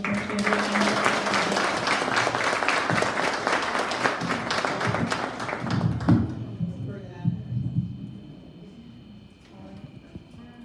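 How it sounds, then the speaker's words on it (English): An audience at an award event applauds loudly and steadily for about six seconds, then the clapping thins out into scattered claps and a voice speaking. "Another round of applause."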